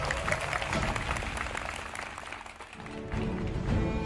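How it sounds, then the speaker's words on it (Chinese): Applause from a studio audience at a crossover comedy competition show as performers walk onto the stage, a loud steady clapping that dips briefly in the middle and swells again at the end. "掌声有请孟鹤堂、周九良。"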